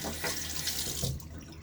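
Tap water running steadily into a bathroom sink to rinse a Gillette razor mid-shave, a close, full hiss and splash that cuts off abruptly near the end.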